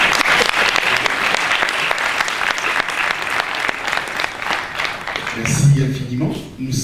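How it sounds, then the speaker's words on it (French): Audience applause at a Christian literature fair in Kinshasa, dense rapid clapping from a large crowd filling the room at steady loudness, tapering near the end as a voice briefly rises over it. "Est-ce qu'on ne peut pas l'acclamer?"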